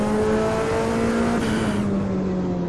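BMW X5 engine pulls hard through the gears on a track lap, a steady loud drone holding near and continuous, its pitch sagging slightly toward the end as the revs ease.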